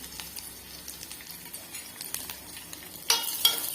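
Chopped onions frying in a pan for kabuli chana gravy, a steady low sizzle with scattered stirring clicks, then louder crackling as more onion hits the hot oil.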